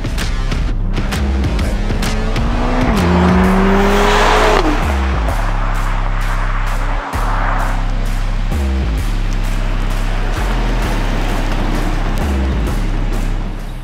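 Turbocharged engine of a 2021 Mercedes-AMG GLA 45 accelerating, loud and close, revving up through rising pitch sweeps and gear changes, with a brief cut in power midway before it pulls hard again.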